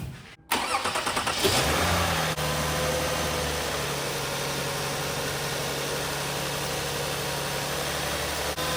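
A 2005 Lexus ES330 cranks for about a second and catches, its engine flaring briefly before settling into a steady, even idle close by, with no talking.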